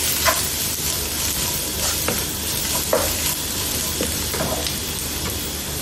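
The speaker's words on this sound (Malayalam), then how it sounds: "1-5 മിനിറ്റ് ഒന്ന് ഇളക്കി കൊടുക്കണം കരിഞ്ഞു പോവരുത്" Chilli masala stirred in a hot pan so it won't burn, a steady close sizzle with irregular scraping strokes of a spoon against the pan throughout.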